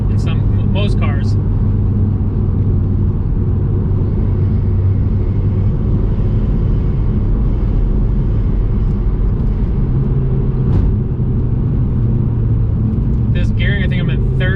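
An Audi TT 225 drives through canyon corners, its engine giving a steady low drone and road rumble inside the cabin, with someone talking over it now and then.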